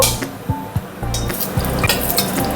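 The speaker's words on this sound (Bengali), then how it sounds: "দারচিনি লবঙ্গ এলাচ আর এই যে তিনটের মতন তেজপাতা দিয়ে দিলাম এবার ফোড়নটা হালকা করে ভেজে নেব" Cinnamon, cloves, cardamom and bay leaves sizzle in hot oil for an egg pulao, with a steady frying hiss and a few sharp scrapes of a spoon stirring the pan, heard up close.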